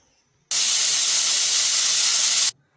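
A pressure cooker of mutton chops lets off a loud, steady blast of steam hiss that starts abruptly, holds for about two seconds and cuts off sharply, with no voices.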